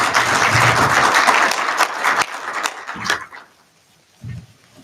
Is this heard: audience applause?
yes